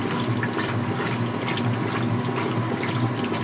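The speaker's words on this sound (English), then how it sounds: "In about a minute, we'll be switching into the first spin to get rid of the wash water" A Speed Queen Series 9 washer runs its wash cycle with a steady, close, dense swish and churn of water and a constant low motor hum, without pause or speech.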